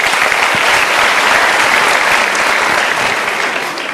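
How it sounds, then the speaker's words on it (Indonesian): A studio audience at a motivational talk show applauds, a loud, steady wash of many hands clapping throughout with no talk over it. "Kita berikan tepuk tangan dulu."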